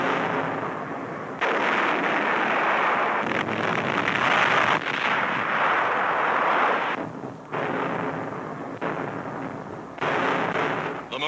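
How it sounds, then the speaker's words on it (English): Heavy Navy guns bombarding an island shore at dawn in World War II, long loud rumbling blasts and roaring barrages that come in broad waves with brief lulls, no talk. "Dawn, and the Navy's big guns open fire."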